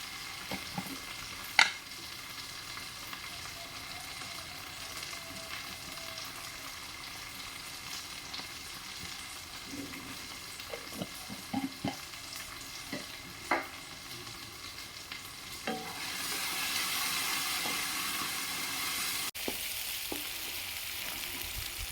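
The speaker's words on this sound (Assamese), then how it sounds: "পিঁয়াজখিনি ভাজা হৈ গৈছে, মছলাখিনিও ভাজা হৈ গৈছে" Onions and spices with cumin, green chillies and ground spices frying in a pan, a soft continuous sizzle with intermittent stirring clicks, swelling into a louder hiss near the end, close up and without voices.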